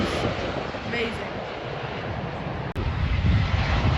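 Air Serbia Airbus A320 jet passing at London Heathrow, a broad, steady engine roar that holds loud throughout, with a brief dropout before it swells again.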